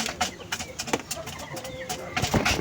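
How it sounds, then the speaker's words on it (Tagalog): Pigeons from a Taiwanese breeder's loft feed together, with soft pecking clicks, flutters and low cooing close by, plus brief indistinct voices in the background. "Yan mga kalapatids, kumakain na sila."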